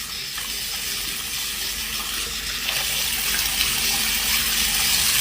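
Tap water runs steadily into a sink while someone rinses their face, a loud, close, continuous splashing hiss that swells slightly toward the end.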